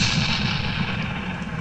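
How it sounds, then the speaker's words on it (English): An explosion spell in the game The Vagrant lands as a heavy, rumbling boom that fills the moment and sustains as a dense roar without a clear decay. "Explosion. From Konosuba."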